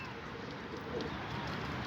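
Soft, low cooing of young pigeons murmurs close by against a quiet background, with no talking.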